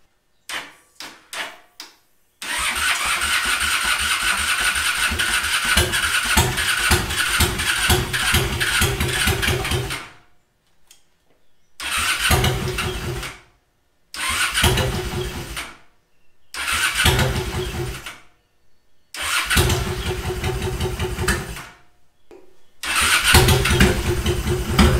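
An abandoned motorcycle, undergoing restoration, cranks with a few short bursts, then fires and runs steadily for about eight seconds before cutting out. Several more restarts follow, each running a couple of seconds, loud and close.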